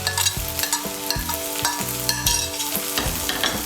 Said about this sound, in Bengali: টমেটো কুচিটাকে মিশিয়ে নেব। মিশিয়ে নিয়ে সবজিগুলোকে আরেকটু ভেজে নেব।